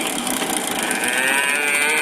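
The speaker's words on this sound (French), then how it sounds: "Où on pouvait en fait entendre les différents sons d'animaux." Cow moo from a 1965 pull-string animal sounds toy, a continuous mechanical lowing tone that plays loud and steady for about two seconds, with no talking over it.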